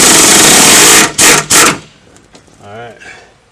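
An impact wrench fitted with a chrome socket hammers in three loud bursts, one long rattling run followed by two short ones, while loosening a fastener during a car lift install; someone speaks briefly afterward.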